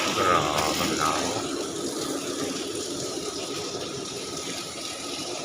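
Water drains out of a rooftop water tank with a continuous rushing, splashing gush that eases slightly over five seconds, heard close up and without talking.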